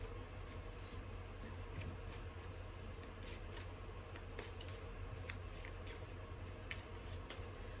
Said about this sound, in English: when I split the deck then to shuffle them